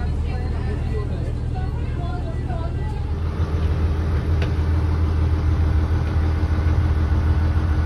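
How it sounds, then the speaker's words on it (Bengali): Steady low engine drone of a West Bengal Tourism launch boat cruising through the Sundarbans, loud and continuous, with a bit of background chatter. "তো এই হচ্ছে ওয়েস্ট বেঙ্গল ট্যুরিজম ডিপার্টমেন্টের লঞ্চ"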